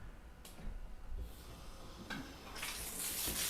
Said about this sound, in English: get a second rinse on this.